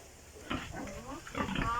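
Pigs on a family farm grunt and oink in short bursts at close range, with voices talking over and around them.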